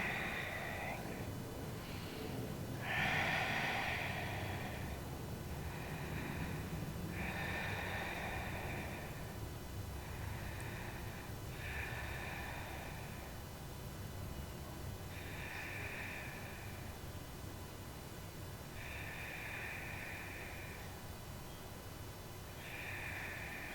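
During a supine twist in a power yoga flow, soft, slow, rhythmic breaths repeat about every three to four seconds, roughly seven close inhale-exhale cycles without any talking.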